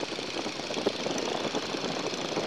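A Boeing Stearman PT-17 biplane's engine droning during low flight at about 500 feet: a loud, steady, continuous roar with a faint rhythmic throb, no talk.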